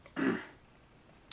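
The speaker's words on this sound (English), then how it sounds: "I'm going to cough again." A sick man gives a single rough throat-clearing cough, close and fairly loud, followed by quiet and a faint short sound at the end.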